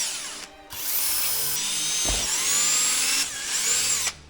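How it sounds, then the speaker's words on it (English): A very thin drill bit whines steadily while boring pilot holes in a 1980 MK1 Golf GLi body panel, the motor starting, dipping briefly and running on in close, loud bursts with no talking. "I then drill out the pilot holes with a very thin drill."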